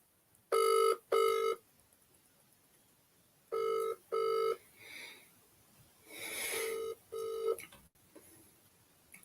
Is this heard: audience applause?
no